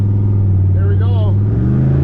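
A 1973 Pontiac Ventura fitted with an on3 Performance turbo kit pulls hard at full throttle up to redline on full boost, its low exhaust droning loud and close with a rising pitch, while someone speaks over it.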